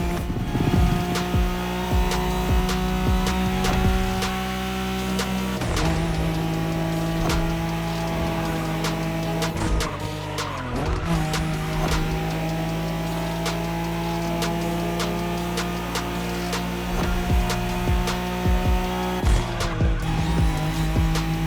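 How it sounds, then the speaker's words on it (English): A Nissan Skyline races in The Crew Motorfest during a Wangan-style highway run, its engine droning loud and steady with rising and falling revs, shifts and tire noise throughout, with no talking. "In a Wangan race, you gotta go fast, Bren."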